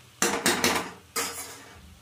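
A lid goes onto a pot of cooking papaya, with a few quick metallic clatters followed by a final clink as it settles, close and alone.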